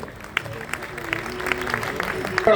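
Applause from an audience welcoming the mayor at a World Suicide Prevention Day event in Surat. Scattered claps sound at moderate distance beneath ongoing talk.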